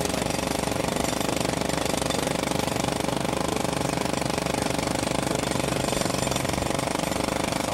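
A jackhammer used as a sound effect pounds continuously and loudly at a rapid, steady rate for the whole stretch, with no voices over it.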